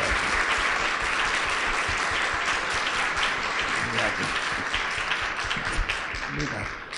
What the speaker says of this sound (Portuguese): peço a todos uma salva de palmas